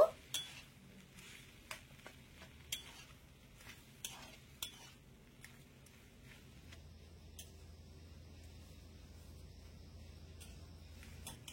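Quiet scraping and occasional clinks of a utensil stirring soya chunks with boiled potato in a pan, with a soft low hum building in the background.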